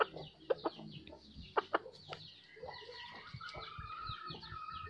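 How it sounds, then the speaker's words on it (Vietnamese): A seven-month-old young rooster of a mixed wild-blood breed clucks in short, sharp bursts nearby, with a few louder calls over a quiet farmyard background. "Đây là một con gà tơ 7 tháng tuổi, gà S3"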